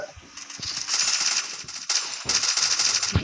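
Rapid bursts of automatic gunfire in a shooter video game aimed at an enemy's vehicle, rattling in dense repeated volleys with short gaps, loud and close throughout.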